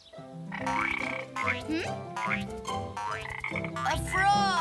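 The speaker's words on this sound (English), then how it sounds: "A frog!" A frog croaks in a series of close, loud, rasping calls with short pauses between them.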